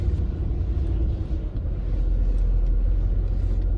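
Car reversing into a parking spot, a steady close engine rumble and low road drone throughout, with no talk over it.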